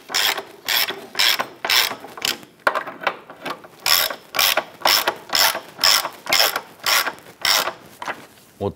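A ratchet wrench clicks in quick repeated bursts while tightening rear subframe bushing bracket bolts on a 2008-2013 Nissan Rogue, about a dozen close, loud, evenly spaced strokes with no talking.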